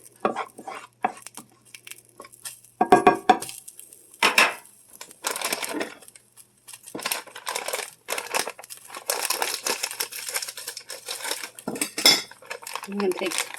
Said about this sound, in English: I'm going to take both the beef patties and just kind of break it up into the hot pan.